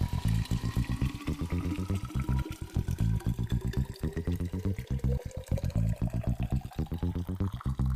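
Hot water pours steadily from a kettle into a thermos, a close gurgling stream whose pitch rises as the vessel fills, with soft bubbling throughout.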